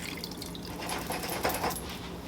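Hot water is poured into a pot for Jamaican curry chicken feet, a soft liquid splashing and trickling that swells slightly midway, with no talking.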